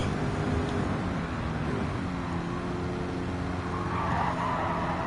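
A Corvette race car in Gran Turismo 7 drives steadily with a continuous engine drone and squealing, skidding tyres through a turn, loud and unbroken throughout.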